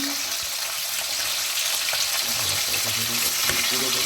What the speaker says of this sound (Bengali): মাছটাকে এবার ভেজে নিচ্ছি আমি। মাছগুলোকে উল্টিয়ে দিচ্ছি আমি।